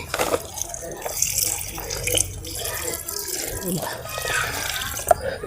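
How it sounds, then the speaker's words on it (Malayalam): Water is poured around the base of an okra plant in a home vegetable garden, a close splashing and trickling into soil while someone talks over it. "ഈ വെള്ളം നമ്മൾ വെണ്ടയുടെ ചോടൊന്ന് അനക്കിയിട്ട് വേരുകൾ പോവാതെ ചോടൊന്ന് അനക്കിയിട്ട് അരികത്ത് ഒഴിച്ചു കൊടുക്കണേ"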